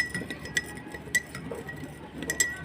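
A metal spoon stirring sugar in a glass gives faint, irregular clinks and taps against the glass, several light chimes spread across a quiet background with no talking.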